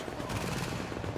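Turret firing in Tom Clancy's The Division, a fast, steady stream of rapid automatic shots, loud and close, running without pause.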